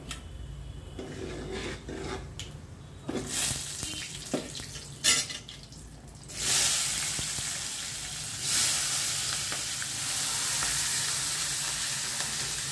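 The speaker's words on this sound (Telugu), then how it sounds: "ఇది ఉల్లిపాయ పచ్చిమిరపకాయ వేసుకోవాలి. అది టపటప అన్నయ్యి." Onion and green chillies sizzle in hot oil in a pan for a bottle gourd curry, a loud continuous crackle with clinks and stirring scrapes near the start and a louder surge of sizzling about halfway through.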